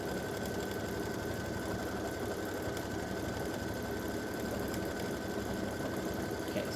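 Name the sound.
embroidery machine stitching hummingbird quilting design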